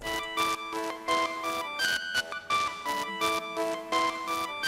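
A layered synth melody in a bass music production, processed through the Portal effect plugin, plays as bright, shimmering pulsed chords with a choppy rhythmic gating, continuous and prominent with no voice over it.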